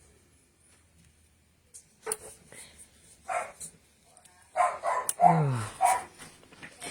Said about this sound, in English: I got a barking dog over here.